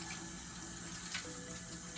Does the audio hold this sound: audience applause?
no